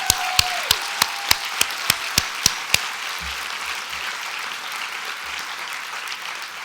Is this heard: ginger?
no